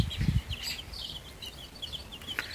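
Young chickens under an infrared heat lamp peep faintly in short, repeated high chirps, with a few soft low thumps near the start and no talking.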